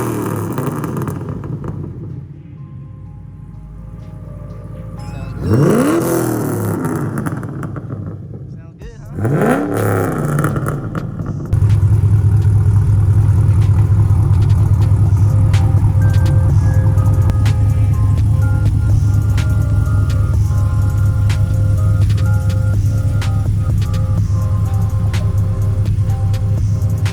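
A car with a Chevy SS exhaust idles as a low, steady rumble that turns loud and constant, with two rising revs near the start.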